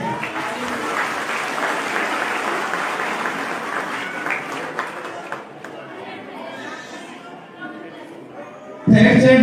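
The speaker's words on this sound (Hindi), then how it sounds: "तालियां बजाइए" Audience applause at a school annual function: sustained clapping from a crowd, loud and steady with chatter mixed in, fading somewhat toward the end before a sudden louder noise.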